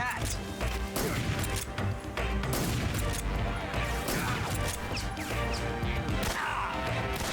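Gunfire in the stealth action video game Metal Gear Solid 3: Snake Eater rings out as a rapid string of sharp cracks and crashing impacts, loud and close, with a game voice mixed in among the shots.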